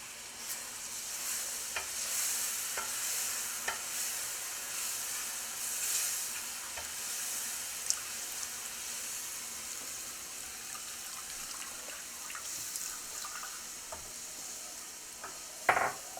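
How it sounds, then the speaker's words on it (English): Milk being stirred into a butter and flour sauce in a pan over medium heat, a soft steady sizzle with faint scraping strokes and occasional light clicks, no voices. "And stir that in over a medium heat, and in a minute this is going to thicken, of course, because of the flour."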